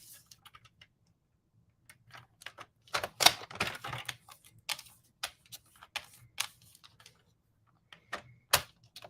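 Scissors snipping through paper for a craft project: scattered short, crisp cuts with uneven pauses, clustered in quick bursts and then spaced apart, close to the microphone and otherwise quiet.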